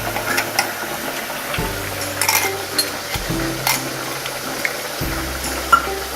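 Potatoes frying in oil in a pan on an Indian stove, cooked for Punjabi-style dum aloo, give a steady close sizzle with occasional clinks of a utensil against the pan and low kitchen hum.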